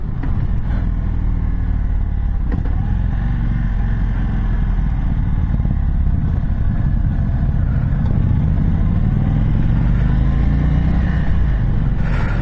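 A 2022 Indian Chief motorcycle with a restrictive stock exhaust and air cleaner rumbles steadily while being ridden, its engine drone loud and close under continuous wind and road noise.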